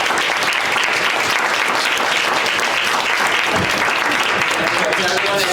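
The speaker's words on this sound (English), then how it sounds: "How about a round of applause for our 3 facilitators?" Loud, sustained applause from a crowd at a school district meeting, dense continuous clapping filling the whole stretch without a break.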